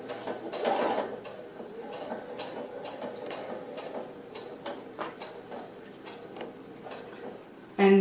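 Sewing machine stitching a quilt, a quiet ticking, rhythmic mechanical run up close, ending with a brief louder clunk.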